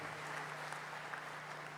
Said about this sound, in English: Please give a round of applause for him.